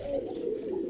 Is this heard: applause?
no